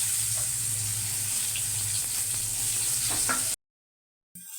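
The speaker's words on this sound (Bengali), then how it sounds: "পেঁয়াজটা ভাজা হয়ে গেছে," Onions fry in oil seasoned with panch phoron, a steady close sizzle with a few light stirring scrapes, then a sudden silence before the sizzle briefly resumes.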